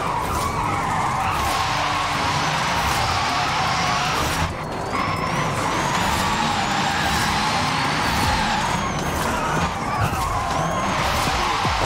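An Xpeng P7 electric car drifts in the racing game Forza Horizon 5, its tires screeching loudly and without a break over a whining motor. There is a brief dip partway through, and rising and falling squeals mark the slides.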